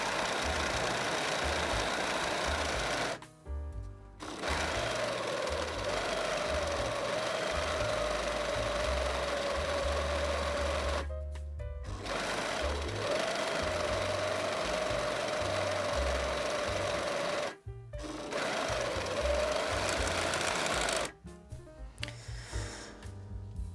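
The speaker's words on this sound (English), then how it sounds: "I will serge the short edges here on the sides, but not the sleeve head." A serger overlocks the short side edges of a dress, running in a steady mechanical whir with a sustained tone. It stops briefly three times and restarts, with uneven clattering toward the end.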